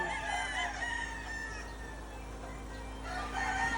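A gamefowl rooster crows at a Bicol game farm housing imported breeding stock, among other fowl, its drawn-out calls rising clearly over a steady background of farm noise, with a second crow toward the end.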